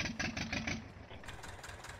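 A Ursus C330 tractor engine in Farming Simulator 19 cranks and catches, then settles into a steady, mid-pitched idle rumble, heard up close and alone.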